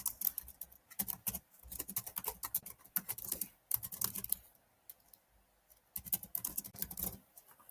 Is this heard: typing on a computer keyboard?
yes